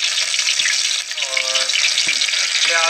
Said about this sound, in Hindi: ऑयल हमारा गर्म हो गया जी, अब मैं इसमें ये ऐड कर दूँगा प्याज